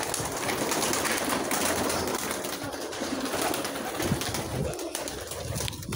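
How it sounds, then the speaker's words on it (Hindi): Pigeons coo softly in a loft where two newly hatched chicks sit, the low murmuring calls steady under a broad, hissy background. "ये दो बच्चे ये कबूतर के कल ही निकले थे"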